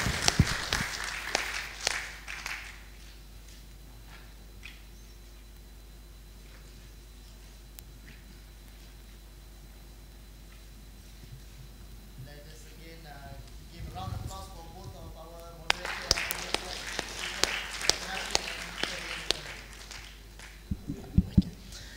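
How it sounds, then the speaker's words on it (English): An audience claps to close a session, thanking the moderator and guest speaker. Brief clapping at the start is followed by quiet murmuring and talk, then a fuller burst of steady applause near the end. "we'd like to end by giving a clap"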